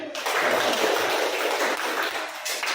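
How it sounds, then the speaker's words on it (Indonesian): A class of children applauding together in an Indonesian classroom, a dense, steady wash of clapping close by that fills the moment before cutting off abruptly. "tepuk tangan untuk semuanya"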